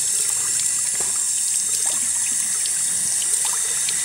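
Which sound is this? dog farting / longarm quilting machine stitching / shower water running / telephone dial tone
shower water running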